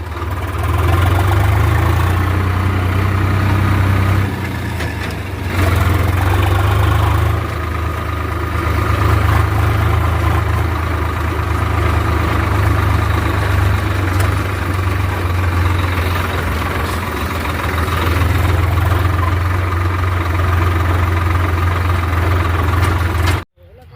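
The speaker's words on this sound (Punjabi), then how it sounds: "ਆਹ ਟਰੈਕਟਰ ਮਸ਼ੀਨ ਨਾਲ ਲਾਏ ਆ" A tractor engine hitched to a trolley idles during a potato harvest with a steady low throbbing hum, loud and close, running continuously for the whole stretch.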